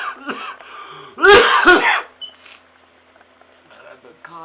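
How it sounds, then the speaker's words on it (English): A person sick with flu coughs in a loud, harsh burst of two or three hacking coughs near the middle, with quieter throat noises and breathing before and after. "And I've been coughing like that."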